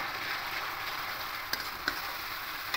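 Masala paste mixed with yogurt sizzles steadily in a hot pan for a fish roe curry, a continuous frying hiss with a couple of faint clicks and no voices.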